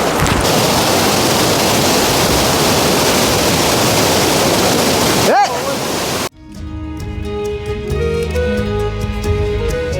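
Glacier-fed waterfalls on the Panpatiya Col mountain trek produce a loud, constant rushing roar for about six seconds, then the sound cuts abruptly to quieter, tonal background sound.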